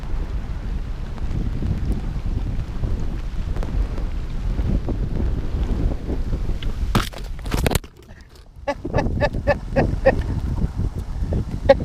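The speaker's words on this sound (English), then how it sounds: "That was the wind. Yep, that was the wind." Strong gusts of wind on the Susquehanna River during a storm buffet the microphone with a constant low rumble, broken by a brief sharp clatter and a short drop before the roaring resumes.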